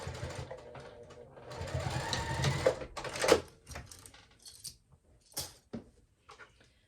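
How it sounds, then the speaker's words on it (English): A sewing machine stitches a seam on a fabric wristlet clutch, a fast whirring run that swells and then breaks into short bursts and stops with soft handling noises between them. It is fairly quiet and close, with no talk. "I'm sewing at a 5/8 inch seam allowance."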